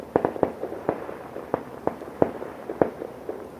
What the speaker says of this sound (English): Now someone's setting fireworks off in daylight.